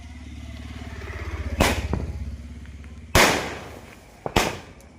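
Three sharp firecracker bangs from a celebration fireworks display go off at uneven intervals, loud and close, each with a short crackling tail over a low background rumble.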